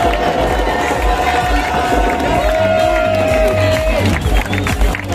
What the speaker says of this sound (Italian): fateci sentire un bel applauso.